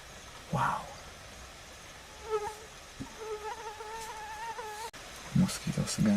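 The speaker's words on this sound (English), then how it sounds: "Mosquitoes again." Mosquitoes whine in several high, wavering drones close to the microphone during a Florida storm chase, the buzzing rising and fading over a few seconds with faint outdoor background noise.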